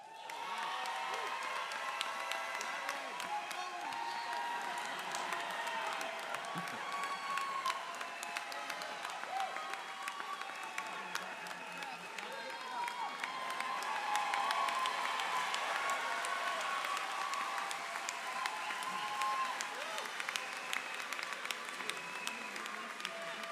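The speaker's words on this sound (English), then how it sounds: "Please join me in a round of applause for all our undergraduates" Sustained applause from a large commencement audience for graduating undergraduates: steady, dense clapping throughout with a few scattered cheers.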